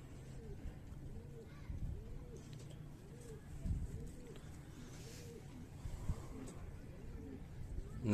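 Highflyer breeder pigeon pairs coo in a repeated soft rolling pattern, low and steady across the clip, over faint background noise and a distant vehicle.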